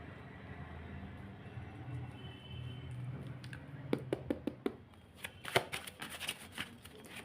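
Tarot cards being shuffled by hand, a low rustle that builds into a run of sharp, rapid riffling bursts and snaps near the end, close and alone without speech.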